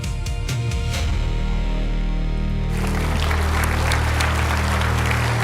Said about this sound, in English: I've always wanted to walk on stage to a round of applause